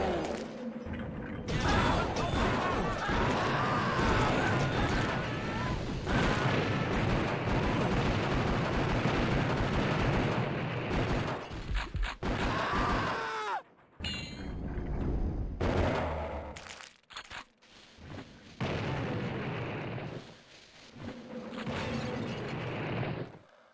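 Akimbo gunfire in the video game Noob Blood: dense, continuous rattling bursts of shots with mechanical clatter, broken by a few brief pauses and stuttering gaps toward the end.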